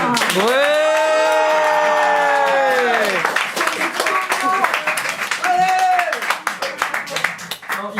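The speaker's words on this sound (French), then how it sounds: "applaudissements" Comedy club audience at the Kibélé applauds and cheers as a comedian arrives, with a loud sustained shout and whooping over the clapping, then continued clapping under more yelling voices.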